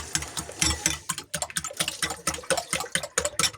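Two salted eggs being whisked by hand in a bowl, a rapid, steady run of close clicking and tapping strokes with brief pauses, fairly loud and without any talk.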